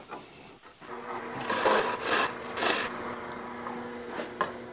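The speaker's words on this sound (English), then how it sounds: "let me make a cleanup cut here" A light cleanup cut on a wooden goblet spinning on a lathe, a soft, steady raspy scraping with a few brighter swells, faint and close with no talking.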